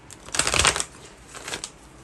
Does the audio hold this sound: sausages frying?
no